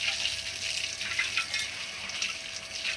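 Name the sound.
water being poured into a drain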